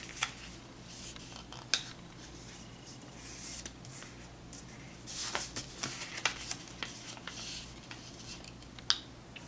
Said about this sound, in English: You just fold all four of your corners into the center of your square.